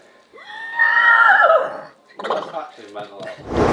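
A man imitates a horse neigh with his voice, a loud, close, wavering whinny lasting over a second, followed by breathy snorting and sputtering sounds and a final rough exhale.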